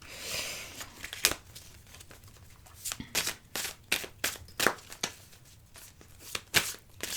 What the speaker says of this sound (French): On va commencer avec le tarot. Non, on va commencer à les mélanger.